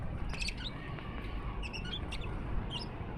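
Soft squawks and chirps from caught desi pigeons over a steady background hiss, a few brief calls scattered through, fairly faint and without talk.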